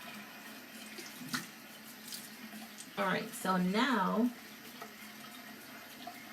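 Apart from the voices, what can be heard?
cold tap water running for rinsing face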